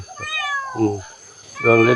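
A cat meows several times in drawn-out, rising and falling cries, close by, with short pauses between calls.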